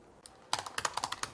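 Quick clicking keystrokes on a computer keyboard, a lone tap followed by a rapid run of sharp, evenly spaced key presses, close and fairly quiet with no voices.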